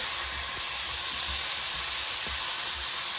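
Steady broadband sizzling hiss of asparagus frying in a hot skillet over medium-high heat, constant and close, with faint low clatters underneath and no talking.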